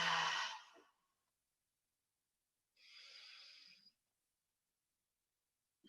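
During a yoga session, a slow, deep breath out sounds close and soft, then a second long exhale follows after a pause of near silence.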